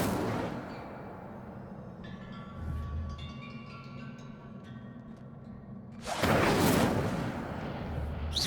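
Incendio fire spell cast in Hogwarts Legacy bursts out as a loud whooshing flare near the end, following a low rumbling ambience with faint tonal chimes.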